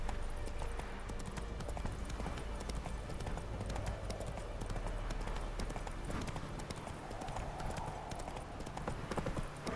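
Rapid, steady clip-clop of a galloping horse's hooves in The Witcher 3, loud and continuous over a bed of game ambience.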